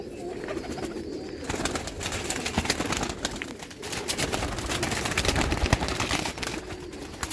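Pigeons coo steadily amid a busy wash of rustling and background noise, the soft calls layered and continuous throughout.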